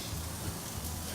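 Steak laid on an outdoor summer grill with Alberta steak spice in Canmore, giving a dense, steady close sizzle and crackle that fills the short moment without a break.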